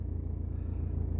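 A tractor engine passes close by with a steady, throbbing low rumble that holds loud and even for a brief moment.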